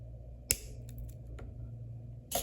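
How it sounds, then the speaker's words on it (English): A wire head pin for earrings trimmed with cutters: a sharp snip near the start, a few small clicks, then another crisp snip at the end, close and quiet. "We're gonna trim our head pin down to 1 centimeter."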